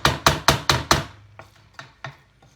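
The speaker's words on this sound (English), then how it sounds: "We're going to give that a stir. There we are, quick stir." A spoon stirring spicy Trinidadian rice and fish in a pot, with five sharp, evenly spaced knocks followed by a few fainter scrapes and taps.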